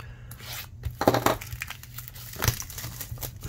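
A 1996 Pinnacle Summit trading card box is torn open by hand, with crinkling, ripping bursts of cardboard and wrapper close up, the loudest tears near the middle and end.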